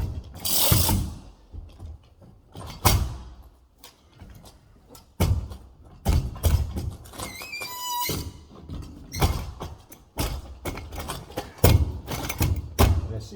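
A carpet stretcher works a corner of fitted carpet, throwing out a series of sharp mechanical clacks and ratcheting knocks in irregular bursts, close and loud over quiet gaps.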